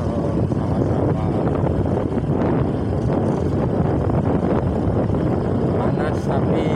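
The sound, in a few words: wind blowing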